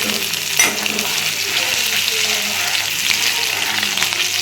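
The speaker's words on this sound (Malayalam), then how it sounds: "ഞാൻ ഇതിനകത്തോട്ട് കുറച്ച് ഇഞ്ചിയും വെളുത്തുള്ളിയും ചതച്ചിട്ടുള്ളത് ഇട്ട് കൊടുക്കുകയാണ്" Crushed ginger and garlic fry in hot oil while being stirred for a fish curry, giving a loud, close, continuous sizzle with light scraping.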